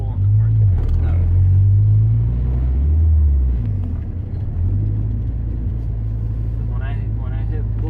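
A turbocharged Honda car pulls hard under boost, its loud, close engine rumble rising and falling through the revs, with people talking briefly over the engine noise near the end.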